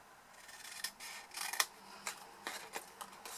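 Scissors snip through paper to cut an oblong away for a small tealight box, producing a few faint, crisp cuts at irregular intervals, close and quiet with no talking.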